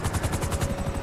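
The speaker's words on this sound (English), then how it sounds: "FIB choppers, pick me up." Helicopter rotor from an FIB chopper in GTA 5, a steady rhythmic thumping of blades with a whining turbine, loud and close, running alone throughout.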